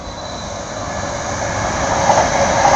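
A GWR Class 800 IEP train in new livery, two units coupled, passes through Darlington station, a steady loud rushing roar and engine drone that swells slightly as it goes by, with no voices.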